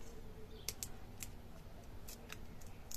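Scissors snipping paper for a 3D staircase greeting card, several short crisp cuts in quick pairs, close and clear over a faint steady room hiss, no talk.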